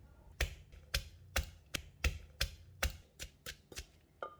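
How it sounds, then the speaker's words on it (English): Chili and garlic are pounded in a mortar for Thai long bean som tam. About a dozen sharp, evenly spaced thuds ring out close by, steady at first and then slightly quicker and softer toward the end, with no talking. "Remove the stem from the chili and drop them in the mortar. Add in 2 cloves of garlic. Pound and smash until fine."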